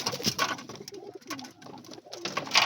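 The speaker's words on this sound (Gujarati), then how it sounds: "આવા કંઈક આપણા કબૂતર છે તમને દેખાડું" Soft throaty cooing from pigeons at their nests holding eggs and chicks, several low repeated coos between rustles and faint flutters, close and quiet.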